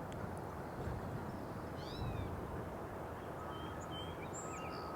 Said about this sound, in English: You can hear a spotted towhee.